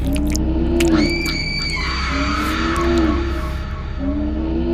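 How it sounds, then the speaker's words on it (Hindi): A woman's loud, drawn-out scream with wavering pitch, repeated several times over a steady low rumble. "जिसे देखकर रेखा जोर से चीखी।"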